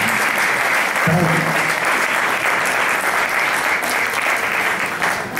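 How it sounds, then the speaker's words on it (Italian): Sustained applause from an audience at the Premio Italia Medievale 2022 ceremony, a dense, even roar of clapping hands that continues throughout. "merita un grande applauso"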